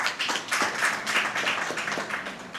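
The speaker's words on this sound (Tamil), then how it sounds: "உங்களுடைய உற்சாகமான கரகோஷம்" Audience at a Tamil debate stage show claps for a school team's score, a dense, steady burst of applause lasting a few seconds at moderate volume.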